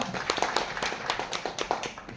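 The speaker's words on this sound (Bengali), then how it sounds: "আমি সারের জন্য একটি করতালি চাচ্ছি সবার" Audience applause at a chamber of commerce and industry gathering: steady, dense clapping from many hands filling the room, fairly close and sustained without a break.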